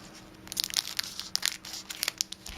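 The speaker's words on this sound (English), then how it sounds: "foil packaging, sealed for freshness. Crack it open real quickly." Sealed foil packaging of a Wild Ophelia 44% cacao beef jerky milk chocolate bar crinkles, crunches and rips in quick irregular bursts, close and fairly loud.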